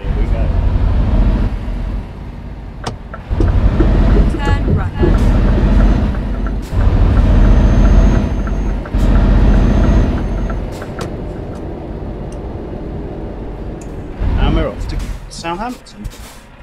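In Euro Truck Simulator 2, a loud hiss of air brakes as the truck's handbrake is released, with a low engine rumble throughout and a few clicks and mechanical clunks.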